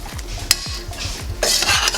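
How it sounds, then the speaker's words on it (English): Cabbage and mixed vegetables being stirred with avocado oil in a pot over no heat, a quick run of close rhythmic spoon scrapes and clinks against the pan with a soft rustle, no talking. "All I'm doing is stirring it up."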